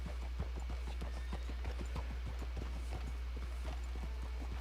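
Horse hooves clip-clop in a quick, even trot in Red Dead Redemption 2, close and steady over a low rumbling background.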